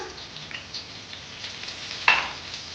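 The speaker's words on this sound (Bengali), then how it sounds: "এবার তেজপাতাটা দিয়ে দিলাম গোটা জিরে ফোড়ন দিলাম" Bay leaf and whole cumin seeds dropped into hot oil hiss with a soft, even crackle, punctuated by one brief sharp tap of a utensil near the end; no voices.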